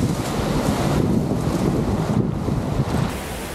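Ocean waves surge against volcanic cliffs on a Philippine coast, a loud, continuous roar of surf mixed with heavy wind buffeting the microphone.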